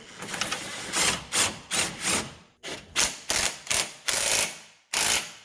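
Ratchet wrench tightening a 15 mm bolt on the lower control arm of a 2013 Fiat 500 Turbo: close, loud bursts of rapid clicking, about ten short runs separated by brief pauses, with no talking.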